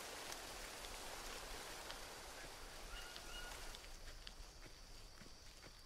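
Steady rain falling through a humid tropical rainforest in the survival game Green Hell, a dense continuous patter with scattered brighter drop hits, moderately loud and alone without voices.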